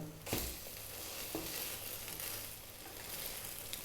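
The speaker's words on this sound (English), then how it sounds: "Going to fry these for like 2 or 3 minutes on each side" Ham, cheese and egg sandwich ingredients frying in a pan, making a dense, even sizzle up close with a couple of sharp clicks near the start.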